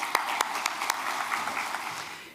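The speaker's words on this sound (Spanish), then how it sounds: "Así que un aplauso para don Rafael Sayagué, por favor." Audience at a business conference applauds a speaker, a moderate steady patter of many hands with a few sharp louder claps near the start, heard from a distance in a hall.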